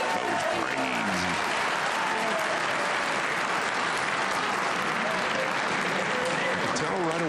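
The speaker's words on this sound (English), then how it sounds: "the crowd goes crazy" A crowd at the 2024 US Open Pool Championship quarter-final erupts in loud, sustained applause and cheering after a decisive break shot in a pool match, filling the hall for several seconds while a commentator speaks over it.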